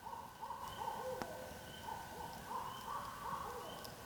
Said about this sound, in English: it's an owl calling